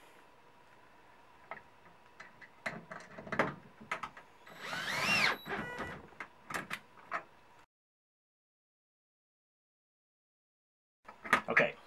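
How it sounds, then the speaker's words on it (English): A screw gun snugs up set screws on a standing seam roof anchor, giving a series of short clicking and whirring bursts close by, then a silent gap before a final burst. "I've got my screw gun in my left hand because that's what's comfortable. And what I'm going to do is snug up these six set screws"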